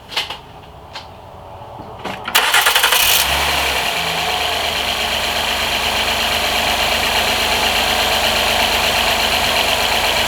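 A couple of knocks, then a 2010 Honda Accord 3.5 engine with a flashing check engine light cranks and catches, dropping into a steady, close idle that runs unbroken.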